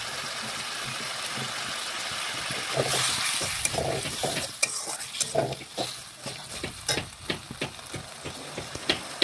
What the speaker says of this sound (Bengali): এখন ভালোভাবে নাড়াচাড়া করে মশলা একটু আমি ভেজে নেব